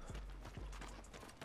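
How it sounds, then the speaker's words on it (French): A horse's hooves clop faintly as a rider leaves into the distance in Red Dead Redemption 2, a few soft, distant beats. "regarde le mec là-bas qui s'en va au loin avec son cheval."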